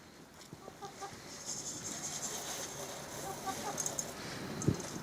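Several chickens cluck and murmur nearby in a loose, overlapping chatter, with a few louder squawks rising above the outdoor background.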